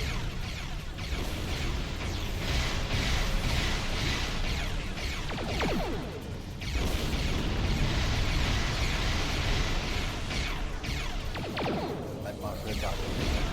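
Starship weapons fire and explosions from the Star Trek Online game rumble loud and continuous, with bursts and sweeping whooshes layered over a dense roar as voices talk throughout.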